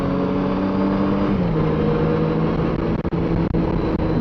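A car climbs a mountain road on Virginia Route 250 at Shaw's Ridge and Bullpasture Mountain, engine droning loudly and steadily with a pitch shift partway through as it accelerates, heard from inside without talk.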